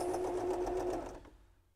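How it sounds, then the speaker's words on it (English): A buttonhole-stitching sewing machine runs in a steady, fast mechanical rhythm for about a second and a quarter, then stops, leaving near silence. "I only do buttonholes on this machine"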